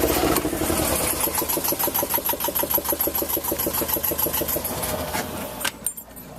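A small boat engine on an Island Packet 27 sailboat runs with a fast, steady chugging rhythm, then cuts out abruptly near the end, leaving quiet.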